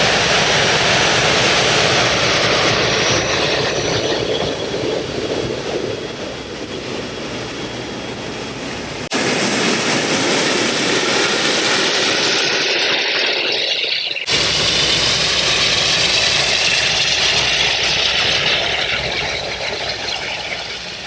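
Airbus A380 jet taxiing past on an airport taxiway, a loud, steady engine roar and whine sustained throughout, heard close from a boundary fence, with abrupt shifts in tone along the way.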